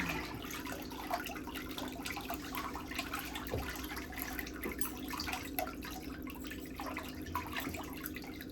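Water in a pedicure foot bath swishes and trickles steadily at low level over a constant background hum, with no talking.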